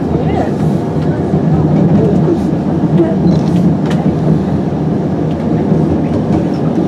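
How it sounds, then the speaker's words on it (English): A mountain railway train on Mount Snowdon rumbles steadily nearby with continuous mechanical noise, faint rattling and voices murmuring underneath throughout. "And another train waiting in another loop."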